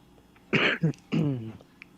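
Two short, rough coughs, close and clear, the second slightly longer, with quiet pauses around them.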